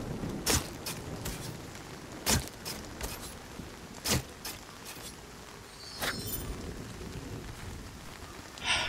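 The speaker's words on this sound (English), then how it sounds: "It really didn't help that it was fucking raining." Rain falls steadily in the video game Nightingale, a constant hiss of drops on surfaces, broken by several sharp cracks and thumps spread across the stretch, with no talking.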